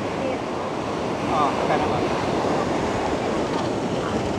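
Strong ocean surf roars continuously close by at Puka Beach, Boracay, Philippines, with gusty wind buffeting the microphone; faint voices may be buried beneath the crashing water.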